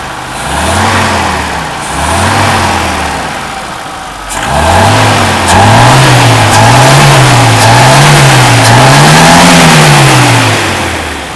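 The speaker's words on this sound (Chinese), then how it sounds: "那我们来做一个加速啊" A Mercedes W123 230CE, its fuel distributor freshly overhauled, revs up repeatedly, the engine note rising and falling in a steady series of loud, smooth pulls with a short pause after the first two, and no one talking.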